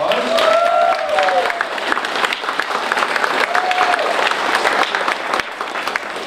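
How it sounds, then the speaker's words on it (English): A town hall audience in Brookings applauds the Oregon Librarian of the Year from Gold Beach with steady, dense clapping throughout, a few whoops rising above it and a voice speaking over the applause. "Give him a big round of applause."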